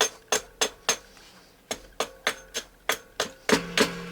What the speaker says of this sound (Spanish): Estoy labrando ahora los cantos para darle un poquito de forma ahí redondeada, pero poquito a poco.